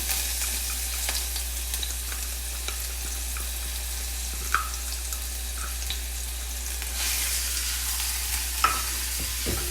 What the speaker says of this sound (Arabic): خلي زيت الزيتون يصير حار، بعدين نحط البصل والثوم، شرايح طبعا من الثوم